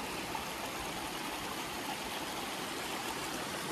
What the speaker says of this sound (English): this is my video here of the Big Spring here. Big Spring Waterfall